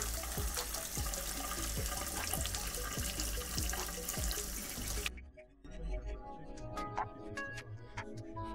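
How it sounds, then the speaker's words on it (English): Steady rush of tap water pouring and splashing as a shoe-polish brush is rinsed, close and continuous, then briefly dropping to quieter trickles and drips. "It's best to do this under running water."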